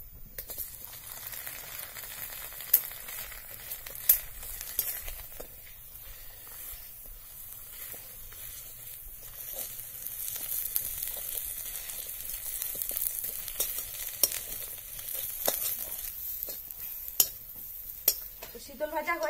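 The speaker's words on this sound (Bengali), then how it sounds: "শীতল ভাজার জন্য সামান্য একটু তেল দিয়ে দিব।" Dried fish (sidol) frying in a little oil in a wok over a village clay stove, a faint steady sizzle with occasional scraping clinks of a spatula against the pan.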